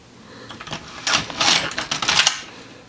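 An LK150 knitting machine carriage clatters across the needle bed while knitting short rows for a mitten, a series of quick rattling passes close by, with no talk.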